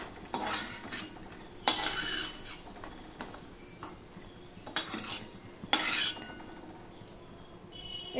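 A spoon stirs and scrapes in a pan as fried potatoes are lifted out of hot oil, with soft clinks, faint sizzling and a few louder metallic scrapes.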